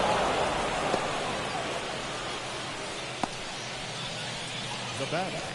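A wash of rain falls throughout the MLB The Show baseball video game, a soft broadband hiss with a couple of faint ticks, mixed under quiet crowd or voice murmur.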